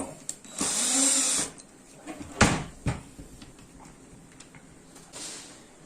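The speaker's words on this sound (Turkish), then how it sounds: "dolabımızın kapağının kulbunu alıyoruz" Handle being removed from a kitchen cabinet door with a tool, a close whirring burst followed by a few sharp knocks and clicks, with quieter scraping after.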